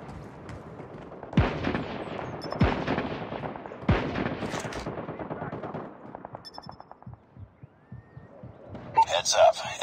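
Sentry gun deployed at the center of a Call of Duty Mobile Standoff Kill Confirmed match fires in loud bursts of gunshots, with heavy shots around one, two-and-a-half and four seconds, then scattered rapid rounds and in-game callouts over the action.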